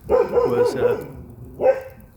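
Dogs bark in a quick burst of several loud, close yips and barks, with one more bark following after a short pause.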